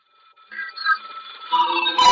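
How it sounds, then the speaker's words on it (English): An old-school British telephone ringing, a bright electronic trill that starts faintly, swells in short bursts and grows louder toward the end, heard alone. "Telephone ringing."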